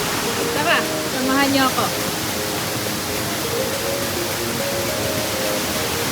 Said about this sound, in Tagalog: Yan nga pala yung tubig na galing sa falls.